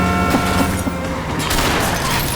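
Loud, continuous gunfire in the video game LA Noire, a dense barrage of overlapping shots that fills the whole moment.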